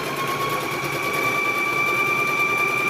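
A sewing machine runs steadily, stitching across quilt squares, with a continuous high motor whine and even buzz throughout, close and unbroken, with no talk.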